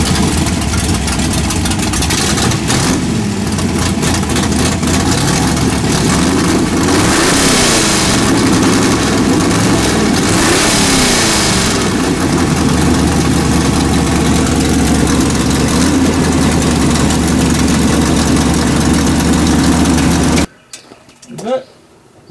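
A car engine on a custom garage build fitted with a new velocity stack starts without the throttle being pumped, then runs with a loud, steady, rough idle and some revving for about twenty seconds, with talk over it before it cuts off.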